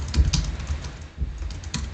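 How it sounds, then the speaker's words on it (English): Close, quick typing on a computer keyboard as a Linux command is entered, a steady patter of key taps with no talking. "there's a typo in it, and let me type in again."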